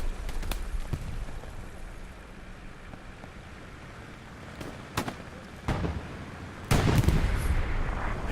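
Rocket artillery rounds land across a Hell Let Loose battlefield, several booms and sharp cracks at uneven intervals, some distant and one heavier rumbling strike near the end, over a constant hissing ambience.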